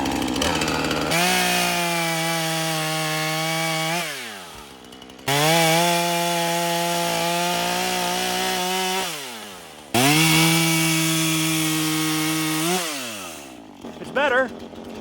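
A Husqvarna 440 chainsaw revs and cuts through wood in three long passes, loud and close, dropping to idle between cuts with brief voices near the end.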